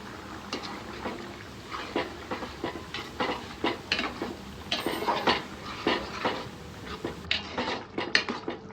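Spoon scrapes and clinks rhythmically against a pot while stirring Andhra-style chicken curry, producing close, repeated metallic knocks under a soft kitchen background.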